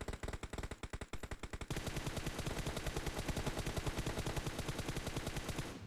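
Rapid automatic gunfire from the PUBG Mobile training mode, loud and continuous, with tightly spaced shots in long unbroken bursts that grow denser after a short opening volley. No one speaks.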